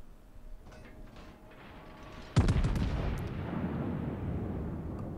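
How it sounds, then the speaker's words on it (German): A heavy naval gun salvo from the battleship Missouri in World of Warships booms out abruptly after a quiet stretch, a loud blast followed by a long rumbling roar that slowly fades. "Die Schüsse schauen gut aus, schlagen ins Oberdeck ein"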